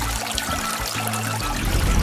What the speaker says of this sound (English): A shower is just the thing to help fix you up.